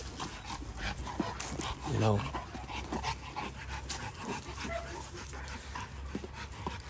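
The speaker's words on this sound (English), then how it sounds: "Having fun with these dogs" Dogs playing with a toy top pant and give short yips and a whimper amid rustling movement, while someone talks over them throughout.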